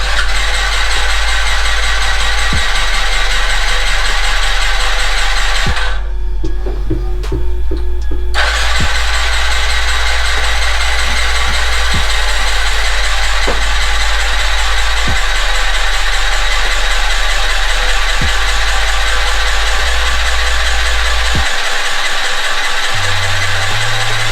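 A Yamaha Zuma scooter that had been bought for $40 is cranked with a jump pack and starting fluid. The engine catches after a short break in the cranking and then settles into a loud, steady, close idle with no talking.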